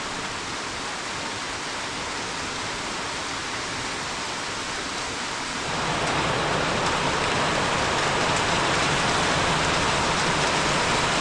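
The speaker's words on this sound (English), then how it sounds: "raining and raining and raining." Heavy monsoon rain pours down in Goa, a constant hiss of drops on surfaces that swells noticeably louder and denser about halfway through, then holds steady with no voices.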